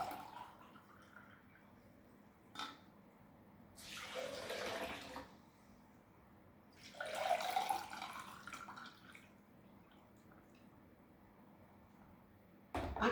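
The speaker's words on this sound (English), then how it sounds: "I'm adding 2 glass cup of water." Water poured into a glass measuring cup while making almond milk, heard as two bursts of splashing pour, each about a second or so, in a quiet kitchen.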